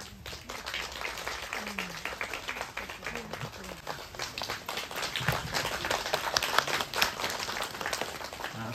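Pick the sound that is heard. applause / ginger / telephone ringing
applause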